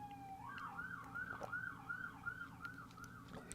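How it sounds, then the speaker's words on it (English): An emergency siren wails outside, faint and distant, its pitch looping up and down in a steady repeating cycle. "Sirens on my end."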